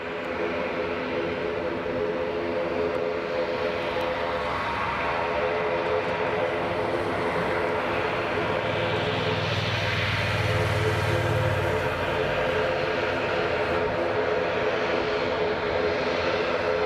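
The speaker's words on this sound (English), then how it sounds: "Another Jet2 just taxiing out there, down at the bottom." A Jet2 airliner taxiing at Leeds Bradford Airport gives a steady, continuous engine roar from some distance, with a low rumbling swell near the middle and no pauses throughout.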